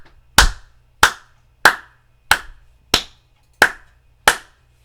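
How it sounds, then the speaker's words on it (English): Seven even, sharp hand claps land at a steady pace, the fingers of the striking hand hitting the palm for a medium-pitched smack, close and alone. "your fingers on your striking hand are going to hit your palm."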